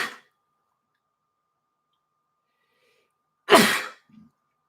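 A single sharp sneeze bursts out of near silence, followed by a faint short breath.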